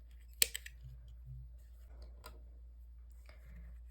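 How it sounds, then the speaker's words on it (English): Two or three sharp scissor snips cutting crochet yarn strands, close and fairly loud, followed by quiet handling noises. "then we're going to cut them"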